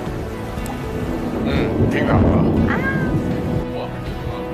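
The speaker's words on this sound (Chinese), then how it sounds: "下雨了！ 下雨了！" Rain and thunder at sea pass over a fishing boat, with a broad rumble swelling midway beneath a constant wash, while people talk and exclaim over it.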